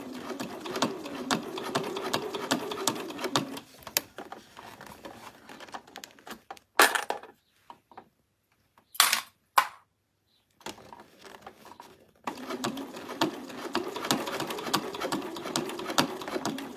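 A sewing machine runs in quick, buzzing bursts while stitching fabric for a DIY unicorn bag, stopping midway for a few sharp clicks and clunks before it starts again.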